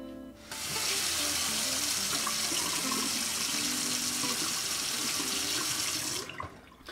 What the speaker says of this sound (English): Pouring up a beautiful looking hard seltzer